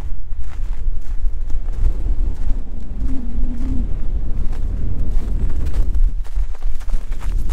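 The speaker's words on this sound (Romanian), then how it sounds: "Bine că bate vântul din spate, te împinge la urcare." Wind blowing hard past the microphone while climbing uphill on an outdoor ride on the Côte d'Azur, a loud steady broadband rumble that runs the whole time with gusty swells.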